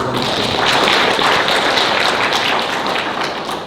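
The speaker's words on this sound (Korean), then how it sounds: "박수 드리세요" Audience applause at a workplace communication seminar: dense, steady clapping from many hands, loud and close, running unbroken throughout.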